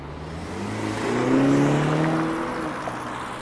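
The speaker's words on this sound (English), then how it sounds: "Is that BMW gunned it to get around these illegally parked vehicles here?" A BMW car accelerates hard around illegally parked vehicles on a city street in Toronto, its engine note rising and swelling close by before easing off, a steady road rumble underneath with no talk.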